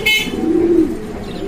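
A carrier homer pigeon gives a short low coo, close and clear, with a brief higher chirp at the start and no voices.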